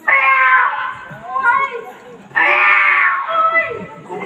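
A man imitates a tomcat's yowling mating call with his voice, two long drawn-out wailing meows rising and falling, loud and close, with no other talk.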